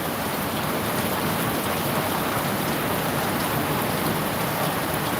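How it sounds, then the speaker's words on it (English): Heavy rain pours down in a dense, unbroken hiss that stays steady and loud from start to finish. "Lots of rain."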